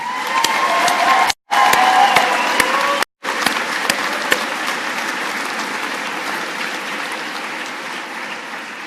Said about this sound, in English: How about joining me in another round of applause for Sierra Company?